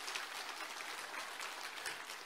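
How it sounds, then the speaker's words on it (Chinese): An audience at a Buddhist followers' gathering in Brisbane applauds with soft, continuous clapping that sounds somewhat distant and faint. "鼓掌。"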